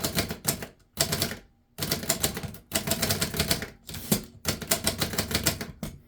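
Rapid bursts of keystrokes on a 1935 Remington Rand Noiseless Model One typewriter, a dense muffled clatter in several runs with short pauses between them, close and fairly loud, no talking.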